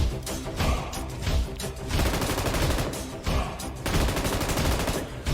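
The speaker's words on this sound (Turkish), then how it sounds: "100 mermili M249 galiba abi bu" An M249 machine gun with a 100-round load fires in the mobile game PUBG Mobile, giving dense, loud bursts of rapid automatic gunfire with short gaps between volleys.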